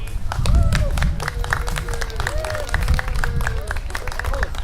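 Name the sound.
crowd cheering and clapping at grand opening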